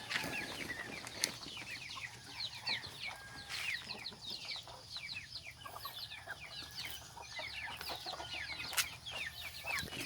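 Heritage Rhode Island Red, Black Australorp and native chickens cluck in a flock, with layered busy clucks and chirps continuing throughout at a moderate distance, plus occasional sharper calls and a wing flap or two.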